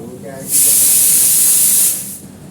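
A pressure cooker releases a loud, steady hiss of steam that bursts out and holds for over a second before tapering off, with faint background noise before and after.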